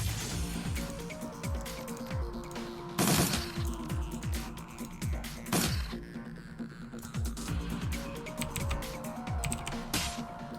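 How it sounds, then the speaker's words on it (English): Scorpions in the video game Shadowrun: Dragonfall spit venomous blobs in a battle, heard as two sharp, loud bursts over steady background game music and clicking combat noise. "the scorpions shoot venomous blobs at us"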